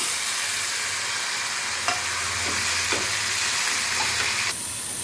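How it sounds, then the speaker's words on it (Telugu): Tomato pieces sizzle steadily in oil in a pan, giving a constant bright hiss close to the listener, with a few faint clinks of stirring. Nobody speaks. "ఇప్పుడు మళ్ళీ అదే పాన్లో కొంచెం ఆయిల్ పోసుకొని టమాటా ముక్కలు వేసుకొని మగ్గు పెట్టుకుందాం"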